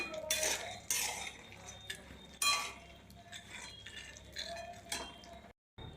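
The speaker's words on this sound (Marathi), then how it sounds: "आता मी काजू भाजून घेणार आहे" Cashews roasting in a pan for dry-fruit laddoos are stirred with a metal spoon, producing repeated scraping and clinking strokes at close range, ending in a moment of silence.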